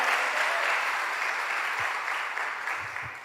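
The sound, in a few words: church congregation applause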